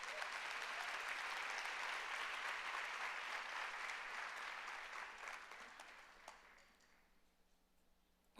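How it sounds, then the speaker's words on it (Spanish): A church congregation breaks into sustained, dense applause that holds steady for several seconds, then gradually thins and fades out toward the end, with no voices on top. "¿Cuántos dan un aplauso a Dios por eso?"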